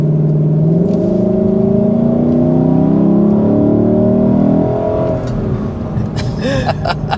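Lexus LC 500 grand tourer with its 5-liter V8 revving loud and near, the engine note rising through the higher RPMs then dropping away as road noise and faint background sounds take over.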